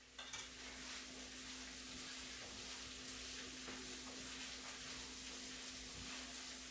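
Shredded cabbage and mushrooms sauté in a pan with a soft, continuous sizzle, while a spatula scrapes and stirs now and then; the sound is quiet and close, with no voices.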